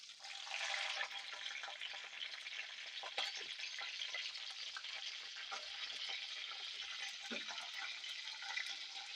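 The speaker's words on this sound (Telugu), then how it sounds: "ఇప్పుడు మనకు ఆయిల్ అయితే హీట్ ఎక్కింది నేను పచ్చిమిర్చి వేసుకుంటున్నా" Green chillies sizzle and crackle in hot oil in a kadai, a continuous frying hiss with occasional stirring scrapes and pops, heard alone without talk.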